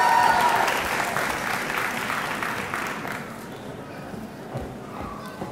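Applause for graduates at a college diploma and awards ceremony: a crowd claps loudly at first, then the clapping thins and fades over several seconds into scattered claps and room noise.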